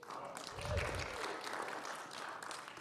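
Brief applause from a church congregation thanking outgoing leaders, soft scattered clapping in a room with some murmuring voices.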